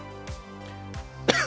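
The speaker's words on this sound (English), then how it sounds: "Oh, it's cough." A single person coughs a couple of times, faint and close, with no talk over it.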